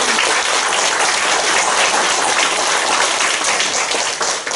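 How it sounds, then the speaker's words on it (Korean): Congregation applause at a pastor retirement ceremony during a Methodist church conference, a dense, loud, sustained roar of many hands clapping together, steady throughout with no voices over it. "박수 한번 쳐주세요."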